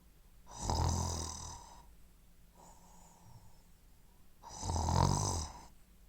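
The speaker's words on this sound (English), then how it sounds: "Prick's distinctive snoring sounded, signaling that she had drifted off to sleep" Someone snores in sleep with two long, loud rasping inhalations a few seconds apart and a softer breath between them, close by and with no speech.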